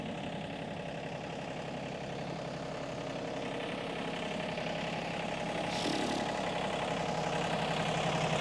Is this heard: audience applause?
no